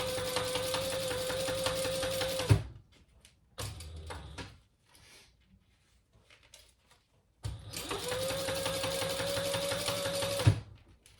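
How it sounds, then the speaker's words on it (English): A sewing machine top stitches a fabric train case in two close, steady runs of rapid whirring stitches of about two and a half and three seconds each, separated by quiet handling noises. "as you top stitch"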